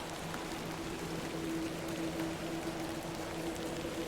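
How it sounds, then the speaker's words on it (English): Rain falls in the video game The Excavation of Hob's Barrow, a steady soft hiss of drops patters on surfaces throughout with a faint low tonal hum beneath. "Little rain is no bother."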